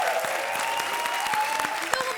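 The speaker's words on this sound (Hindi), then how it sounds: "बजाओ ताली" Studio audience applause on a televised comedy show, a steady wash of clapping from a seated crowd with occasional sharper claps, sustained evenly over a short span.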